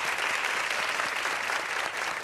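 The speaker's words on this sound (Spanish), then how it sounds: "Podem aplaudir." Studio audience on a Brazilian talk show applauding a guest's introduction, a steady, full wash of clapping held throughout at strong volume.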